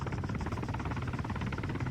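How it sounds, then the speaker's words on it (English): A helicopter in Call of Duty: World at War makes a steady, fairly faint rotor drone with a low pulsing chop that holds throughout. "Helicopters."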